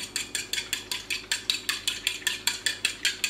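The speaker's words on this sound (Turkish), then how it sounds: "Onları hemen şöyle çatalla az bir şey çırpıyorum." A fork whisking three eggs in a bowl, about fourteen quick even strokes in a steady rhythm, each a light scraping clink, close and moderately quiet.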